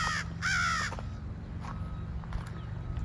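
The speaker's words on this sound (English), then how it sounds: "yeah, I got a crow talking to me." Outdoors near a large retention pond, a crow gives two loud, harsh caws close by, each lasting under half a second. Faint softer calls follow over a low, steady background hum.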